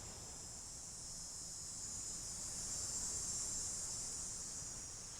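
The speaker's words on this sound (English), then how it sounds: "The zeering of cicadas that are hidden high in the enormous oak trees in this stately neighborhood of Minneapolis." Cicadas hidden high in enormous oak trees in a stately Minneapolis neighborhood drone in one continuous, even, high-pitched buzz, steady throughout with no voices.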